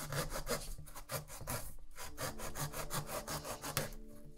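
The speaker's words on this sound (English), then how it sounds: "just shoved in there and cut out a lid for this pumpkin" A small scroll-saw-blade carving tool cuts a lid into a pumpkin on a workbench, a steady close rasping of rapid back-and-forth saw strokes with no pauses.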